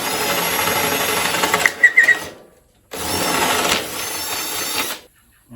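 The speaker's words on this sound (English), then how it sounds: "I'm going to drill a 1/2 inch hole." A power drill boring a half-inch hole in wood whirs loudly for about two seconds, stops briefly, then runs again for another two-second burst before cutting off.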